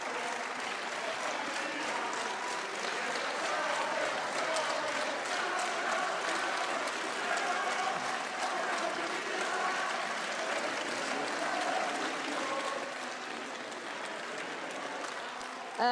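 Applause fills the European Parliament chamber, a broad continuous clapping from many members that holds steady for over twelve seconds before thinning. No chant stands out clearly above it.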